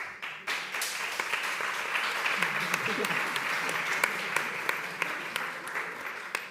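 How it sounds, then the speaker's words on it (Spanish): An audience at a panel on a housing law and the rental market breaks into applause, a steady wash of clapping with a faint voice murmuring underneath. "eso sí que merece también un aplauso"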